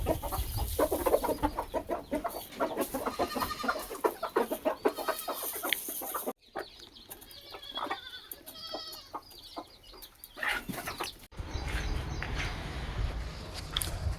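Hungry chickens calling loudly and repeatedly, overlapping clucks and squawks close by, with a short quieter pause partway through before the calls resume.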